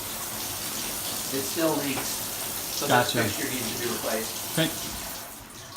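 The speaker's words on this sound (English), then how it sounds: "when you just turn it on, you both get the shower and the bath at the same time" Water runs steadily from a leaking combination shower and bathtub fixture in a home, a continuous hiss of flow with a person speaking briefly over it.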